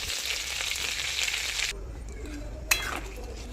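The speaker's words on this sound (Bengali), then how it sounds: "কড়াইতে দিয়ে দেবো গোটা জিরে।" Whole cumin seeds sizzling in hot oil in a kadai: a bright steady frying hiss that drops off partway, followed by a quieter crackle and one sharp metallic clink.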